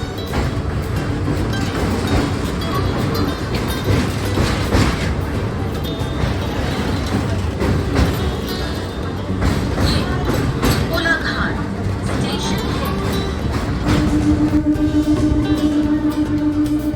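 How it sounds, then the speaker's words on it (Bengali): Local train rumbling across the Kolaghat bridge over the Rupnarayan river, a loud continuous roar of wheels and carriages with rattling clatter throughout and a steady tonal hum near the end. "এখন ক্রস করছি রূপনারায়ণ নদীর উপর দিয়ে কোলাঘাট ব্রিজ।"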